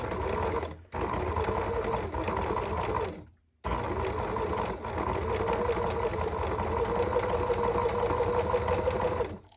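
A sewing machine stitches slippery pink ribbon into ruffles, running in steady loud bursts with two brief pauses, motor hum close and continuous without talk.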